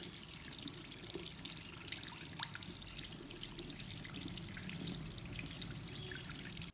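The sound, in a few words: epilator head washed under running water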